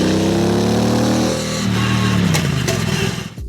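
A motorcycle engine recorded by a microphone clipped to the frame, a steady close, loud running drone that dips briefly then swells again before cutting off abruptly at the end.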